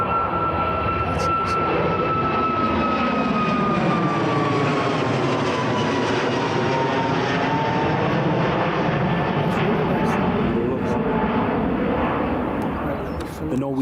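A Norwegian passenger jet takes off at Newcastle International Airport, its engines a loud, sustained roar with a shifting whine that holds steady across the whole stretch, while people talk faintly nearby.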